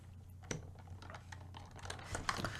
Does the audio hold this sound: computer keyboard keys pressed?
yes